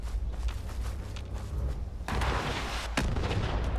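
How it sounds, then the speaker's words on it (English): A rocket fired at the player in the video game Fallout 76: a sudden loud blast cuts in midway over steady rumbling battle noise, followed by a second sharp hit a moment later. "Oh my god, someone's shooting a rocket at me"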